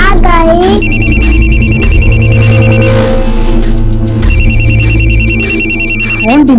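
A mobile phone rings loudly in repeated electronic trilling bursts, with a pause between rings, over people talking and a low background hum.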